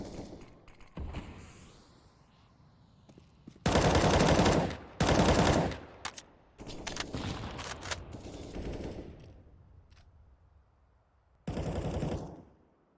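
Bursts of automatic gunfire in a competitive tactical shooter match, fired through smoke grenades: several loud sustained rattling volleys separated by quieter stretches with scattered single shots and clatter.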